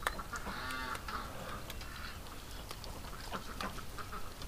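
Quacking from ducks in a backyard pen in winter, including a duck injured by a drake, comes as scattered calls over steady background noise, moderately close.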